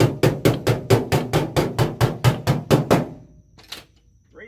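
Hammer blows ring out on an auto body panel, a dozen loud metallic knocks in a steady even rhythm, close up, then stopping, followed by a faint clatter.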